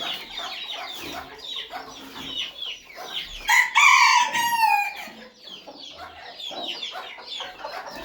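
Hens clucking inside a chicken coop on a cold morning, a steady chorus of close clucks with a loud rooster crow rising in the middle, no talk.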